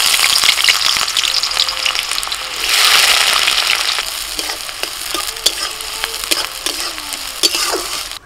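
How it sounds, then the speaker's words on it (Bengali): Cardamom, cinnamon and cloves with chopped onion frying in mustard oil in a kadai, a steady loud sizzle with occasional crackles and stirring clatters, no talk. "কড়াই সর্ষের তেল দিয়ে দিয়েছি আর তেলের মধ্যে ফোড়নে দিচ্ছি এলাচ, দারচিনি, লবঙ্গ"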